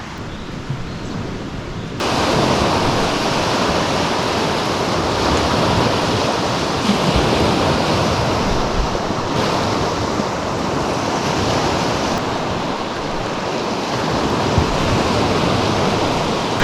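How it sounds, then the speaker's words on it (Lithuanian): Waves on a large lake near Rakvere, Estonia, washing ashore as a steady, broadband surf roar with wind, loud and continuous, swelling and easing slightly throughout. "Kaip tikra jūra. Bangos, gyvybė."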